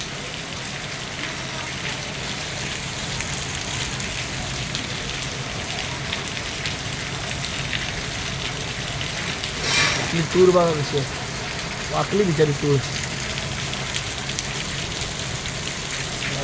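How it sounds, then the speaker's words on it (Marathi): Heavy rain pours in a dense, continuous hiss across the whole stretch. A person speaks briefly near the middle. "एवढा पाऊस पडतोय"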